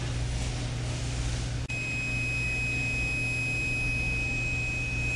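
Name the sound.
continuity tester tone indicating good splice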